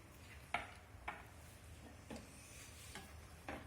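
A spoon stirs rose essence into milk for kulfi, tapping the pot in about five soft, evenly spaced clinks over a quiet background hiss, with no voice.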